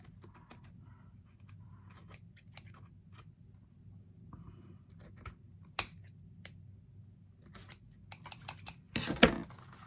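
Scissors trimming junk mail paper make scattered soft snips and crisp paper cuts, close and quiet, with a louder cluster of cutting and rustling near the end.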